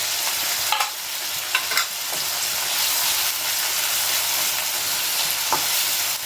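Pepper, ginger and garlic paste sautéing in a pan for a baby corn gravy, giving a loud, continuous hissing sizzle with a few sharp stirring scrapes, close up and without speech.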